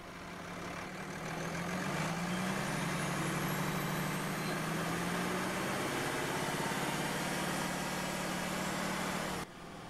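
A 2009 Peterbilt 340 truck with a 300-horsepower Packard PX8 engine and an Eaton 10-speed transmission idles close by, its steady, heavy rumble rising slightly early on, then cutting off abruptly just before the end.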